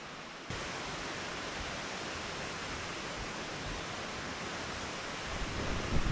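Lower falls at Graveyard Fields pour in a loud, unbroken roar of falling water that swells in briefly after a quieter start and holds steady throughout.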